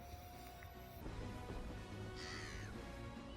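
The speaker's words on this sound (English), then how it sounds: "there's that bird again. Oh, a bunch of them" Several crows caw from a television show, harsh calls rising over a steady soundtrack hum, moderately distant and fairly quiet.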